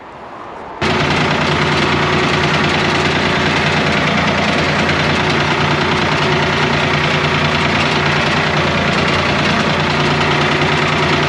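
A loud tractor engine starts up suddenly and then idles steadily nearby, a rough, throbbing mechanical drone that continues unchanged for about ten seconds.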